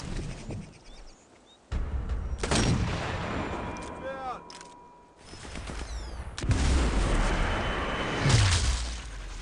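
Sniper rifle shots and bullet impacts in the video game Sniper Elite 4, with loud bursts of gunfire and explosive impacts over continuous game background noise, close and fairly dense.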